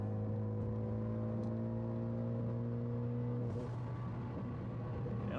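A 2014 Ford Focus ST cruising in sixth gear, its engine holding a steady, even drone from inside the cabin, with road noise underneath and a brief shift in tone partway through.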